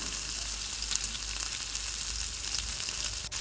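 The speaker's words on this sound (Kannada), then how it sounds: "ಲೋ ಫ್ಲೇಮಲ್ಲಿ ಚೆನ್ನಾಗಿ ಫ್ರೈ ಮಾಡಿಟ್ಟುಕೊಳ್ಳಿ" Gulab jamun balls frying in oil on a low flame, a steady soft sizzle that keeps going throughout, with no one speaking.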